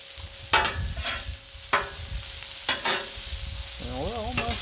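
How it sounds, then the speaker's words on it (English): Artichoke hearts with a touch of sriracha sizzle steadily on a Blackstone griddle as they char, with several sharp scraping or stirring clicks from a spatula cutting through the constant hiss. "I'm just trying to get that griddled texture on there."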